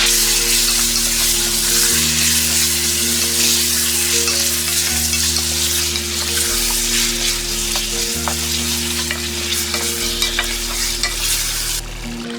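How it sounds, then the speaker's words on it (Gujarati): Chicken korma masala with crushed kasuri methi fries loudly in a pan while being stirred, a continuous close sizzle with scraping spoon strokes over a low steady hum. "બધાને સરસ ફેરવી દઈએ."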